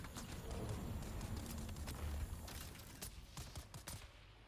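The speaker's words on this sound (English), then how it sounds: "Is that a sniper you're using?" Sniper rifle gunfire crackles in the video game Dune Awakening, a dense run of sharp shots over loud continuous battle noise that thins out toward the end.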